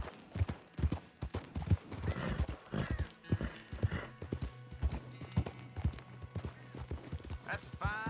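A horse gallops in Red Dead Redemption 2, its hoofbeats clopping in a rhythmic run with a whinny near the end, heard close and moderately loud.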